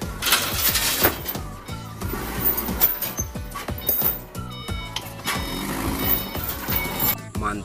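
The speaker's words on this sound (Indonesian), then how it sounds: "Ada mobil forklift." A toy forklift with electronic beeps and mechanical toy sounds, close and busy, with rapid repeated tones and clattering over nearly eight seconds.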